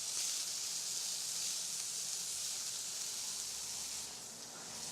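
Chili-marinated food sizzles steadily on an outdoor grill, a continuous close, bright hiss that holds even throughout and eases slightly at the end.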